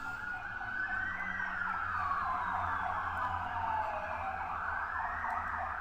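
An emergency vehicle siren passes through London, its wailing tone sweeping up and down loudly and continuously over a low rumble of city traffic.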